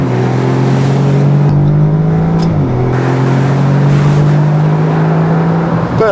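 An Audi S3 sedan in dynamic mode with manual shifting accelerates hard, its engine drone climbing steadily, dipping briefly at a gear change, then rising again. The engine is loud and continuous, with no talk over it.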